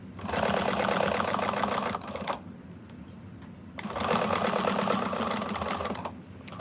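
Sewing machine stitching fabric for an Isabella quilt project: two steady bursts of rapid mechanical needle chatter separated by a brief pause, close and clear with no talking.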